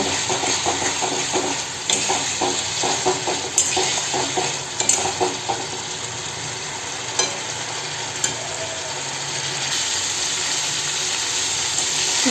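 Masala with Kashmiri chilli powder fries in oil in a pan for a fish curry, a continuous close sizzle broken by repeated scrapes and clinks of a spoon stirring against the metal.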